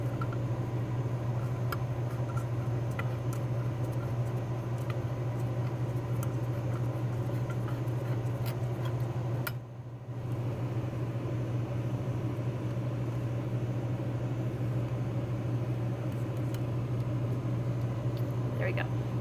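A microhematocrit centrifuge spins with its lid closed, giving a steady, loud low hum and whir that holds for the whole stretch, dipping briefly once midway before resuming at the same level.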